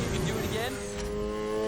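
A Mazda driving in the racing game Need for Speed Heat: a steady engine hum with tonal whine, running continuously under a person's talking.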